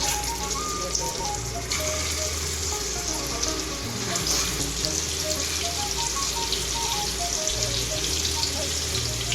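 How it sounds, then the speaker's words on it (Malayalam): Masala-coated fish pieces fry in hot oil for a mother-in-law style fish curry, a dense, even sizzle like steady rain that holds throughout, with faint background music beneath it. "ഇനി അടുത്തായി നമ്മൾക്ക് മീൻ വറക്കാം"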